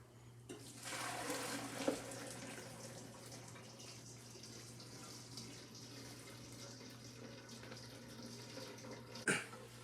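Peach juice streams steadily through a food strainer in a home kitchen, a soft continuous trickle and rush at low level, with a couple of brief clinks near the start and end.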